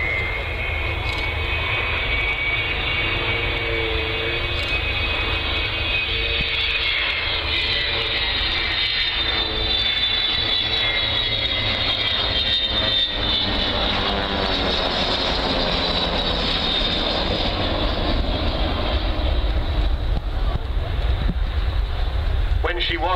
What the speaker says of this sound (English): Vulcan's engine slightly opening up